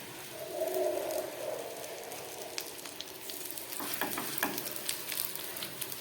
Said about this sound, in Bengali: যেদিকটায় বেসন লাগিয়েছি সেদিকটা ফ্রাই প্যানের উপরে দিয়ে দিলাম